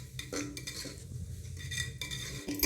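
Soaked rice roasting in hot oil with masala for masale bhaat, stirred with a metal spoon that scrapes and clinks steadily against the pan, with a soft sizzle underneath.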